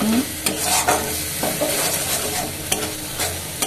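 Spices sauté in a hot pan with chilli powder, a continuous sizzle broken by several scraping stirs and light knocks of the spoon, close and clear with no speech.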